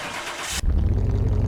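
A video game car engine in Car Mechanic Simulator 2021 bursts into a loud, rough roar after a brief hiss, revving steadily and close.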